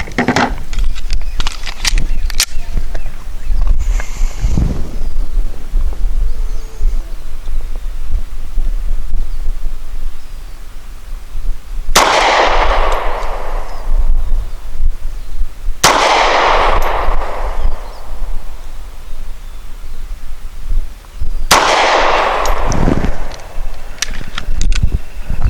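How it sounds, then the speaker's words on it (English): Springfield XDe 9mm pistol firing Federal Premium Hydra-Shok 135 grain low recoil ammunition outdoors, with several sharp, loud reports spaced a few seconds apart, plus a quieter shot early on over wind noise. "I'll be using the Federal Premium Ammunition Low Recoil 135 grain Hydroshock."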